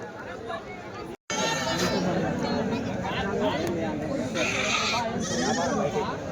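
Goats and large billy goats bleat repeatedly at a busy weekly livestock market in Kadiri, their calls mixed into loud crowd chatter and people talking close by.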